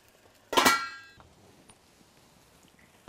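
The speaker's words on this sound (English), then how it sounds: "We're going to cover this pan and cook this maybe for about 10 minutes." A metal lid is set down on a cooking pan with one sharp ringing clang that fades over about half a second, close by in an otherwise quiet kitchen.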